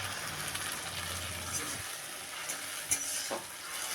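Ground spice paste sizzles in hot oil with a catla fish head and reddened onions, a soft frying hiss broken by a few stirring scrapes and one sharp clink near the middle.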